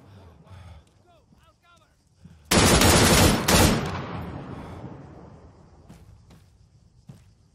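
Sudden burst of loud automatic gunfire in the military shooter game Arma 3 Antistasi on Altis, a dense rapid volley of shots lasting about a second, then a few more rounds trailing off into echo, with a few isolated shots afterward.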